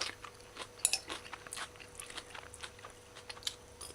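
Crunchy snow peas in a shrimp stir-fry being chewed, faint close crisp crunches in an irregular rhythm with quiet pauses and no talk.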